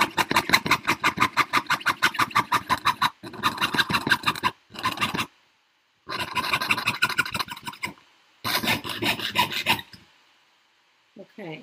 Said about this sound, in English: So now I'm going to go ahead and start sawing